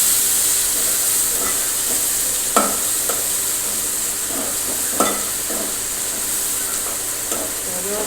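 Tomatoes, chilies and curry leaves sauté in hot oil with cumin and asafoetida in a home kitchen, a loud continuous sizzle and hiss broken by occasional spoon clinks against the pan, with no speech.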